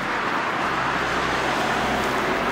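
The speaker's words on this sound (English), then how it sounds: "It's probably really loud because of the highway." Highway traffic near a train station in Chicago makes a loud, continuous roar of passing cars and heavier vehicles, a broad steady wash of road noise with no voices.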